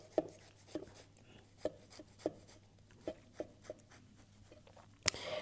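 A knife cuts through a thick Italian sandwich on focaccia bread, giving about ten sharp, crisp crunches spaced roughly half a second apart, quiet and close, with a louder snap near the end.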